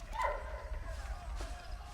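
A dog in the WWI video game Valiant Hearts: The Great War gives a short yelping bark followed by a softer whine, over a low droning game backdrop.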